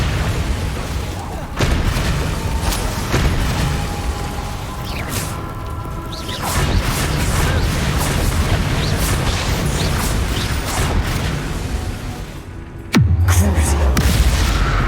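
Repeated booming spell blasts from a Confringo fire spell in the Hogwarts Legacy video game, with bursts and whooshes layered over a dense game soundtrack and a loud deep impact near the end.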